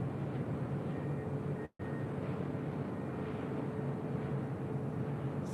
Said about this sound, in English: It's a flight coming in from Tokyo Haneda, flight 26 with American.